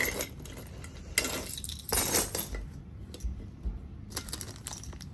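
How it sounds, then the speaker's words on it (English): A small metal Allen key supplied with a fire alarm pull station is handled in a few short clinking, jangling bursts, close and fairly quiet, separated by pauses. "There's our Allen key they come with."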